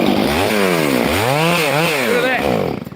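Blunt chainsaw biting into a large piece of wood, the engine note climbing and dropping in strained revving sweeps, loud and close before cutting off at the end.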